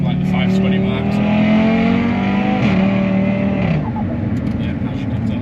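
A stage 2 Audi RS3 8V making about 550 hp revs with a steady, loud engine drone that rises in pitch, then drops back down. A voice is heard over the engine noise.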